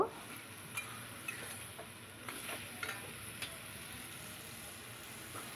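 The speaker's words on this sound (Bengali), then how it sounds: "এবার মেটেটা দিয়ে ভালো করে কষিয়ে নেব।" Mutton liver stir-fried in a pan, a faint steady sizzle broken by occasional clicks and scrapes of a spatula against the metal, no voices.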